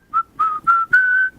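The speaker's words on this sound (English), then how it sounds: "I'm done whistling" Person whistling a song, four clear pure notes in quick succession, the last held longest, close and alone without talk.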